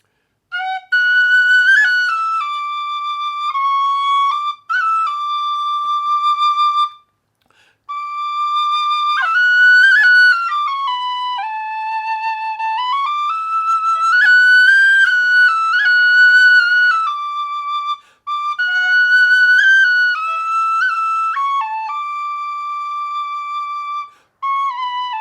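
Low and high D tin whistles play the melody of O Holy Night, clear breathy sustained notes in phrases separated by short pauses for breath, solo and close with no talking.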